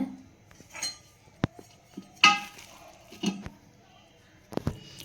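A pressure cooker lid is opened after cooking cabbage dal, giving several sharp metallic clinks and clattering knocks spread across a few seconds, close and moderately loud.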